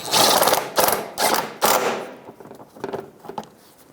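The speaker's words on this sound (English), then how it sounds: "And then we'll tighten that up. 12mm socket." A 12mm socket on a ratchet tightens a fastener by the fender well during a timing belt and water pump job on a 2004-2009 Subaru Outback, with several loud, quick bursts of clicking followed by softer, scattered turns.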